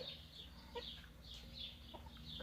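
Chickens in a henhouse cluck and squawk softly in short, scattered calls over a low steady hum, faint and somewhat close.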